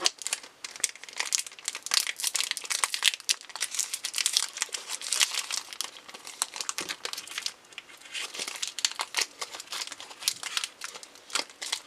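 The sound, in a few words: tearing open a My Little Pony CCG booster pack wrapper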